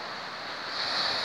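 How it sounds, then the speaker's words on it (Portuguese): Wind and surf on a beach at Barra do Jucu on a gusty day, a steady broadband roar of waves and wind rushing against the microphone, swelling slightly toward the end with no voices. "Aqui numa praia na Barra do Jucu"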